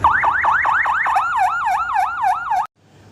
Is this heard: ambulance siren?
yes